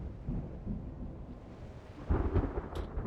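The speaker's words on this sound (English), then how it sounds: "The storm is imminent." Low thunder rumbles from an approaching storm in the game Reverse 1999, a continuous deep rolling murmur that swells into a louder crack-like surge near the end, with faint rain-like hiss above it.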